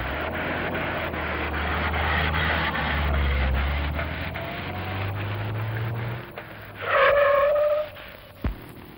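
A vintage General Motors car's engine and road rumble, then a sharp, loud tire screech lasting about a second as it brakes hard, followed by a brief thump.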